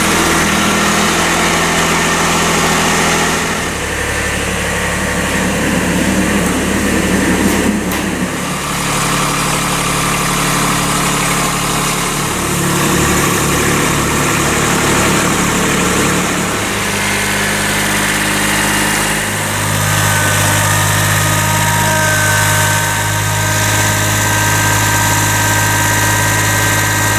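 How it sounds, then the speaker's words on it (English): A Kubota B7100 tractor engine runs steadily while driving a NorthStar PTO generator, a loud continuous idling drone with shifting mechanical hum and vibration throughout, no talking. "got my tractor in place, got the PTO generator all hooked up"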